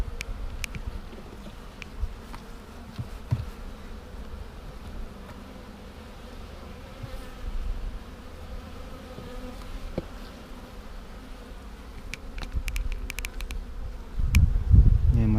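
Honeybees buzz steadily at an open hive in a dense, continuous drone, close and fairly quiet, with occasional louder passes and a few soft bumps near the end.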